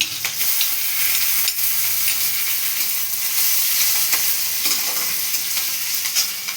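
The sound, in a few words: chopped ginger and green chili frying in oil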